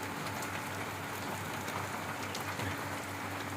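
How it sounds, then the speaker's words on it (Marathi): Steady, dense rain falls without pause, a close, even wash of drops hissing on surfaces with no voices. "पाऊस पण चांगल्या प्रकारे सुरुवात झालेली आहे"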